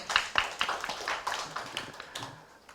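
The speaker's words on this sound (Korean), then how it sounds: "큰 박수 부탁드리겠습니다" Clapping from a small group at a forum, a scatter of quick claps with a few sharper ones at first, thinning out over a few seconds.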